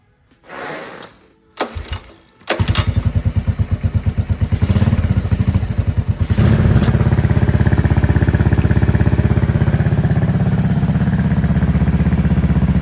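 A 1984 Honda ATC 200s three-wheeler fitted with a new carburetor cranks with a couple of short tries, then catches and settles into a loud, close, steadily thumping idle.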